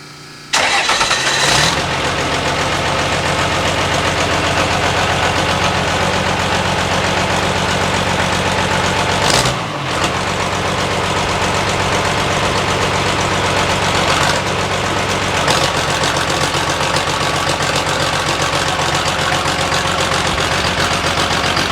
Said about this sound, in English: Starts pretty good for a decompressed diesel, I think.